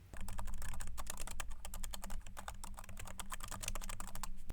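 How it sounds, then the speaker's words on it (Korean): Fast, steady typing on a computer keyboard while entering text into a Korean Hangul word processor, keystrokes clattering densely and close with no pauses and no voices. "다음 문장을 입력하기 위해서 키보드의 엔터키를 눌러서 줄바꿈 해줍니다"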